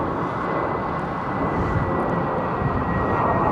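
A British Airways Airbus A350-1000, the fleet's oldest, passing at Heathrow with a steady, moderately loud jet roar and a thin high whine over a broad rumble.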